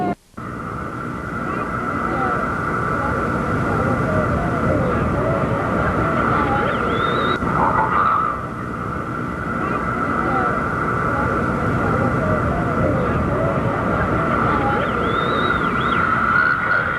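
Concorde airliner making a low pass at 350 feet and about 310 mph at the 1986 Texas Air Expo in Waco, a loud sustained jet roar filling the whole stretch with a faint announcer voice underneath.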